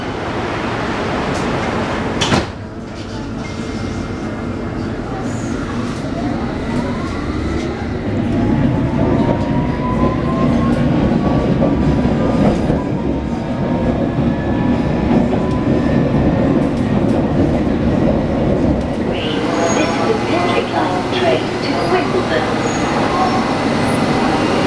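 A Bombardier S7 London Underground District Line train heading to Wimbledon rumbles loudly along the track, with a sharp door or brake sound early on, a rising whine and clattering wheels as it runs.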